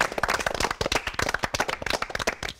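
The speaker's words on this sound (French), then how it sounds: "on peut les applaudir" Audience applause for tennis ball kids at a tournament debrief event: a small crowd claps in distinct, fairly sparse individual claps, close and lively for a few seconds without voices.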